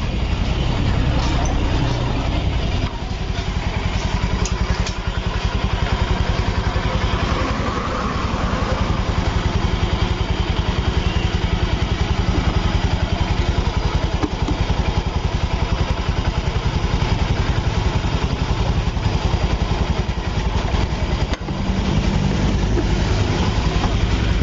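A Honda Beat scooter with an abnormal engine noise idles close by, a loud, steady mechanical drone that runs unbroken throughout.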